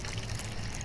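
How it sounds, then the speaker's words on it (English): Well water at 70 degrees, drawn from about 150 feet underground, pours steadily into a 5-acre pond. The gush is continuous and broadband, with a low rumble under it and no voices. "We're running the well right now, and that's 70-degree water pumping in from about 150 feet underground"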